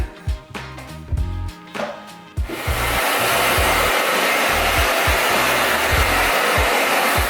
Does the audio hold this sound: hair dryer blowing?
yes